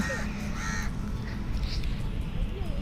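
Crows cawing outdoors in Perambalur, a few harsh caws near the start and scattered fainter calls over a steady background rumble.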